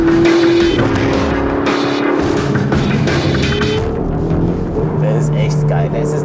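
A 670-horsepower sports car drives a winding road, its engine droning loudly with shifting pitch as it accelerates through curves, while people talk over it inside the cabin.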